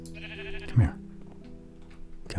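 Sheep bleating in Minecraft, a short blocky bleat rising over a steady ambient game hum, with quiet soft noises around it and no talking heard.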